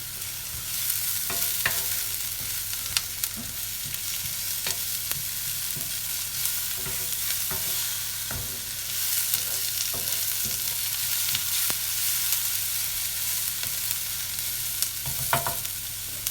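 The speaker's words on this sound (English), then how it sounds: "Now to the onions, we're going to add the garlic. 2 cloves of garlic." Onions and garlic sizzle steadily in a frying pan for moussaka, with repeated scraping and clicking of a utensil stirring the mix, close and fairly loud with no talking.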